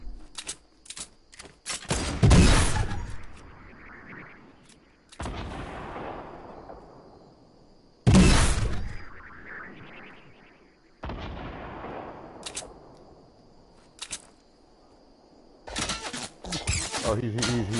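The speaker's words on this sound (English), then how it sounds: "He's shooting" Repeated bursts of Fortnite gunfire, a few loud close volleys and shorter cracks spread across the stretch, with quieter gaps between them and talk running underneath.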